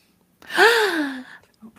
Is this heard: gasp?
yes